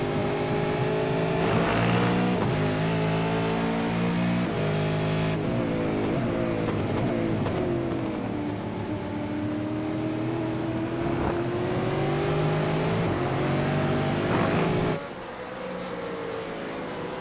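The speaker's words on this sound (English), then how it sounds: "Let's jump on with the hypersonic racing car." Onboard a hypersonic racing car in an IPRA NSW race at Lime Rock, a loud sustained engine drone climbing and dropping through gear changes, steady and close throughout with no talk.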